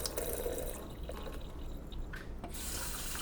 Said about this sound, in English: drain all the water from the pot.